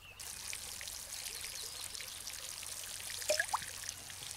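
A watering can pours in the video game Garden Simulator, making a soft, steady trickle of water with a couple of brief higher chirps near the end.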